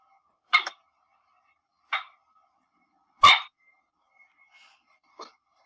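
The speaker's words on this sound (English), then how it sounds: "It's my guard dog." A dog barks four times in short, separated bursts, spaced over several seconds with silence between, sounding somewhat distant and muffled, the third bark loudest.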